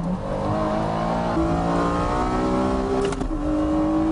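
A Honda NSX with a 3.2 liter engine accelerates hard from a race start, its loud engine note climbing steadily through the gears with a brief shift break, close and continuous with no talking.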